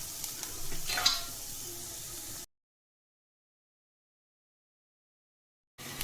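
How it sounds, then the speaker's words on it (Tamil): Chopped onions sautéing in a pan for wheat rava upma, a soft steady sizzle with a brief stir near the start, then the sound cuts out to silence before returning briefly at the end. "இன்னும் கொஞ்சம் நேரம் நம்ம வதக்கிக்கலாம்"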